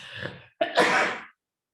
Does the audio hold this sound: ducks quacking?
no